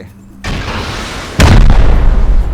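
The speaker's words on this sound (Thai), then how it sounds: "ปืนบอมยิงกี่ครั้งถึงจะพังนะฮะ" Heavy explosive blasts from a bomb launcher fired at a vehicle in the survival game Rust, a rumbling boom followed by a louder, sustained deep blast with a roaring tail, close and loud.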